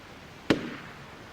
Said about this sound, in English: Gunshot? Yes, we hear the gunshots.